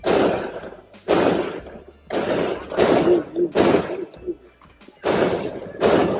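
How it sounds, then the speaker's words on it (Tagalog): New Year fireworks burst outdoors in a series of loud, sharp explosions, roughly one per second with short gaps and a few crackles between. "Fireworks."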